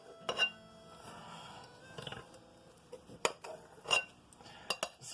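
A knife cutting into a butternut squash: several sharp, close clicks and crunchy cuts come in short bursts with quiet gaps between them, and a faint clatter of utensils sits alongside. No one speaks.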